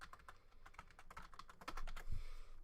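Rapid typing on a computer keyboard while writing code, a quick irregular patter of key clicks at close range, faint and alone with no voices.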